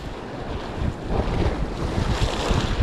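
Sea waves wash and slap around a small fishing boat, with steady wind buffeting the microphone and a continuous surf roar, fairly loud and close, with no voices.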